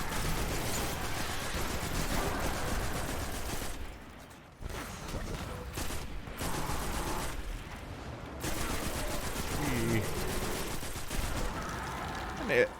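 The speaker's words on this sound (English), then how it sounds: "this auto rifle is doing well enough" Sustained auto rifle fire in Destiny 2: Shadowkeep, dense and continuous, with brief gaps around the fourth and eighth seconds before the rapid shots resume.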